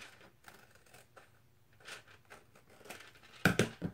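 Scissors trim a paper envelope flap in a quiet room: faint light snips and paper ticks, then a sharper, louder cut near the end.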